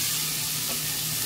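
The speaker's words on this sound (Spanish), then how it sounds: "Le agregamos la cebolla colorada. Y sofreímos bien." Red onion sautés in a pan with a steady, close sizzling hiss that stays even and unbroken.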